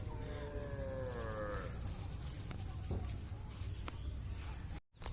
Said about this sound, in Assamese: এই ৰাস্তাটোৰে গৰুবিলাক আহি আছে